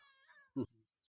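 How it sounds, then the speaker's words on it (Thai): A cat at the Wat Pong Chai Buddhist temple in Chae Hom lets out one brief, close meow during play, followed by a softer trailing sound and then quiet. "วันนี้หลวงปู่นำภาพเหมียว น้องจิวหลิวซับทวี ที่เล่น อยู่เพียงผู้เดียว"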